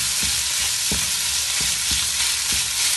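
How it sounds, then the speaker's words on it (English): Marinated beef sizzles steadily in a pan over medium heat, a loud continuous hiss broken by regular thuds and scrapes from stirring, with no talking. "lalagay na po natin yung minarinate natin na beef kanina."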